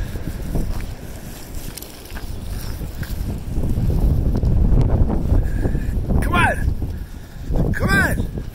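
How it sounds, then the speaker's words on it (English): Gusty wind buffets the microphone outdoors, a rumbling low roar that swells and fades, while a person calls out excitedly and a dog is playing with a basketball nearby. "It's windy!"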